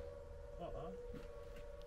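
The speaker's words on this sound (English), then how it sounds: "That's like a siren, a warning siren, isn't it?" A steady, high warning siren tone drones continuously in the distance near a BNFL nuclear site, with a person talking briefly over it.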